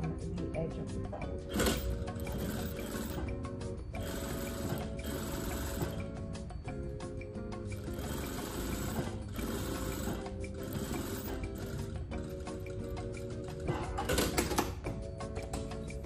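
A sewing machine top stitches across a folded edge of a hoodie about 3 millimeters in, attaching a kangaroo pouch pocket. It runs in steady whirring bursts with brief pauses, close and clear, with some faint clinks.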